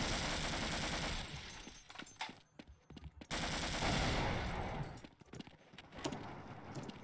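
Bursts of rapid automatic turret gunfire from the video game Half-Life crackle loudly in sharp volleys, pausing briefly before resuming, with clattering impacts between them.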